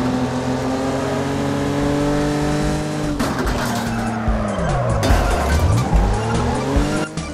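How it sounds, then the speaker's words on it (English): A car in the Wreckfest racing game spins and skids, its engine droning steadily before tires squeal in long sweeping slides, with sharp scrapes and impacts in the close, loud game audio. "Oh my, our car is just spinning."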